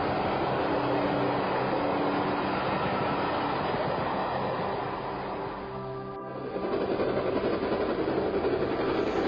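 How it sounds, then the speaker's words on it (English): A train runs along the single-track Wirral Way line, a steady rumbling roll with rhythmic rail clatter that dips briefly before swelling back, moderately loud and close, with no talk. "Margaret's train stops at parks, village stations, signal boxes, coal and goods yards"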